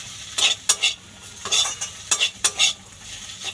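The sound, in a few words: stirring beto greens frying in a pan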